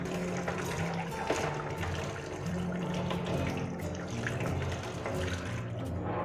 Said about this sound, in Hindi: दोनों पाइपलाइन से थोड़ा थोड़ा हमने पानी निकाल दिया है